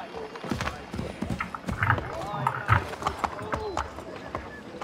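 Hooves clatter in a quick galloping rhythm in Assassin's Creed, fairly close and steady, with someone talking over them.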